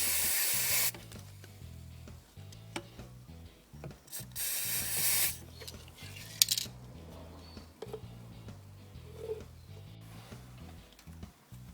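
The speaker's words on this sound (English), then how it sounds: "I'm just going to spray some lithium grease in here" Short hissing bursts of lithium grease sprayed from an aerosol can onto turbo actuator gears of a Mercedes OM642 engine, several quick sprays separated by pauses, over a low mechanical hum and faint clicks.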